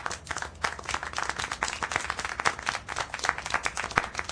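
Applause in the video game Syberia: The World Before, a loud, dense, continuous patter of hand clapping that goes on without a break.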